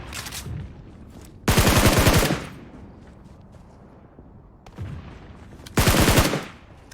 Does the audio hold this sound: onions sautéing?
no